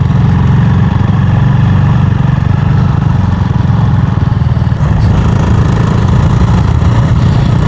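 A trail motorcycle engine runs steadily and loud throughout, a continuous low rumbling drone during a beginner off-road riding course with no talking.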